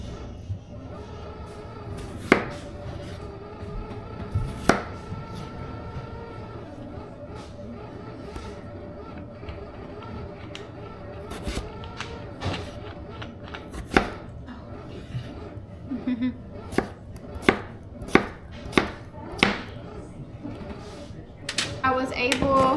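Potatoes being chopped with a knife on a board for breakfast meal prep, sharp close cuts coming sparsely and then in quicker irregular bursts over a steady tonal background.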